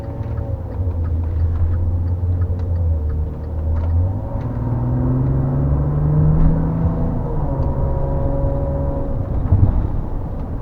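A Maserati Levante S engine accelerating, a loud low rumble that rises in pitch through the gears with a brief dip and then climbs again, heard from inside the cabin without talk.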